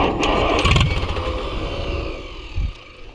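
An Oliver HG-68 crawler tractor engine with a carburetor needing attention and the choke pulled out too far cranks and sputters, giving a loud, rough, uneven mechanical clatter that fades unevenly and then bursts briefly again near the end.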